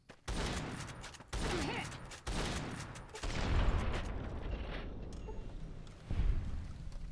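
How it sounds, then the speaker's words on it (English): A steampunk shotgun fires in Fallout New Vegas, several loud close blasts at irregular intervals, each cracking sharply and then rumbling off into a decaying echo. "God, I love my steampunk shotgun."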